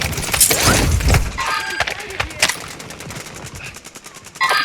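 Gunfire in Warzone 2.0 on Ashika Island, with dense bursts of shots early on followed by scattered individual reports and thuds, heard loud and close amid game noise.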